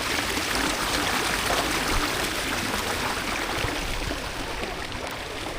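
Water rushes through a small stream beside a Davao City coastal road construction site, a constant loud, full-bodied flowing hiss close by with no voices.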